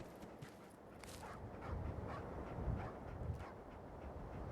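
Dogmeat, the dog companion in the video game Fallout 4, gives a few faint yips and barks within a low, rumbling game soundscape, with soft irregular bursts spread across several seconds.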